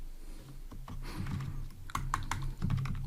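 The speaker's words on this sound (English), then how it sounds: "So I'm gonna type here," Rapid typing on a computer keyboard while entering a quiz question, with clustered key clicks and firmer taps near the end, close and alone.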